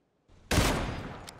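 A sharp, loud gunshot bursts out in a video game after a moment of near silence, followed by a sustained noisy tail and a brief later crack, with no talking.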